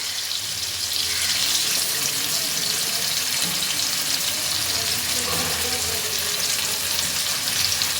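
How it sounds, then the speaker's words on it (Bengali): Grated ginger frying in oil in a pan with softened tomato, giving a loud, dense, continuous sizzle that holds steady throughout. "আদাটাকে তেলের মধ্যে খানিকক্ষণ একটু সাঁতলিয়ে নেব, যতক্ষণ না আদার কাঁচা গন্ধটা চলে যায়"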